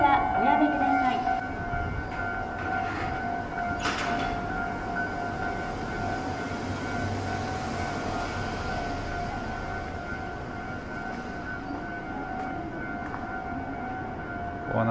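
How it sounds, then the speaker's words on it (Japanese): A railway level crossing bell rings steadily at a rarely opening crossing in front of Takasago Station, Japan, a sustained tonal clang that carries on alongside street noise and passing traffic, with voices talking. "駅前の踏切ですね。 開かずの踏切ですか。"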